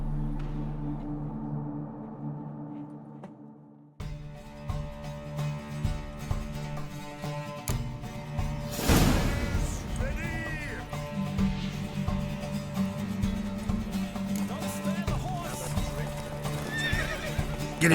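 Horses gallop in a race in the video game The Witcher 3: rapid, rhythmic hoofbeats rise in after a quiet start, with several loud neighs and whinnies over the pounding.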